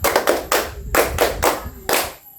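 Several people clap in quick irregular bursts, a series of sharp, loud claps close by with brief gaps between groups, in a classroom lesson.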